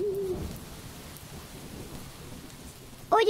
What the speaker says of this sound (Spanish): Llegó la noche y empezó a llover.